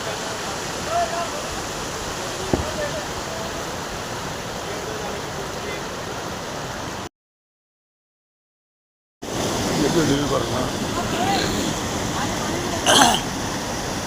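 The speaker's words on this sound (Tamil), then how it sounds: "சூப்பராக தண்ணி வந்து இருக்குப்பா" Jogini waterfall in Manali roars with a constant, close wash of rushing water, interrupted by a short silent break before the flow returns; someone speaks briefly over the torrent.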